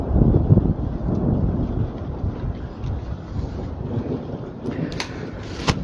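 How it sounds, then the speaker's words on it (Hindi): Thunder rumbles low and broad through heavy wind and rain during a sudden storm in Doda, a sustained roar with gusting microphone buffeting and a few sharper cracks near the end. "बादल काफी जोर जोर से इस समय जो गरज रहे हैं"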